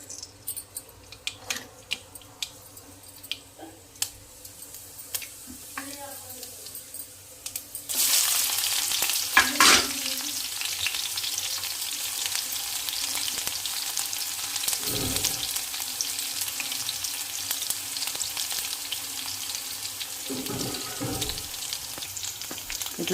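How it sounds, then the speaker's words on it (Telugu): Okra pieces hit hot oil in a pan and break into a loud, steady frying sizzle that runs on throughout, with occasional stirring clatter and a few utensil knocks. "బెండకాయ ఫ్రై అయితే చూసేయండి ఇప్పుడే."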